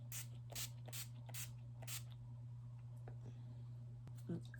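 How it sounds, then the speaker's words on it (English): Setting spray is misted onto a beauty blender in a handful of short, close hissing bursts in quick succession, followed by a few soft clicks and rubbing sounds over a low steady hum. "I like to use a setting spray on my beauty blender to go underneath my eyes"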